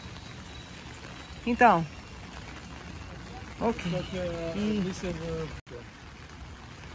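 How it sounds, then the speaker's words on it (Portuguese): Steady rain falls outside a cathedral in Green Bay, Wisconsin, a soft continuous hiss in the background beneath a few short spoken words. "tá aqui chovendo bastante"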